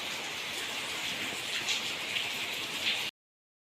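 Light first-monsoon drizzle falling steadily over a village, a soft even hiss of rain with a few slightly louder drops, no voices.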